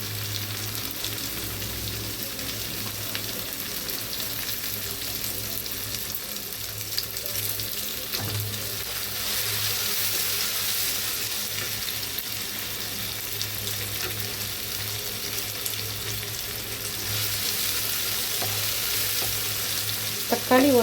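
Tomatoes frying with ginger garlic paste in a pan for a vegetable kurma, a steady loud sizzle with occasional stirring scrapes running throughout, with no voices.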